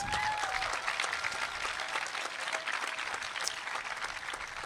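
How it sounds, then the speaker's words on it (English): Graduation ceremony crowd applauding the supporters of the class of 2025 at a secondary program, with steady, dense clapping from a large audience that holds at a fairly even level throughout, a few whoops above it. "Let's give them a round of applause."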